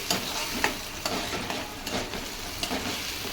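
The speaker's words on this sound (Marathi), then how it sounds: "आता टाकते हिरवी मिरचीचा कूट आता एक जीव करून घेते" Crushed green chili paste being stirred in a pan for spicy shapu (dill greens) bhaji: about six scraping spatula strokes at a steady pace over a soft, continuous sizzle, fairly close.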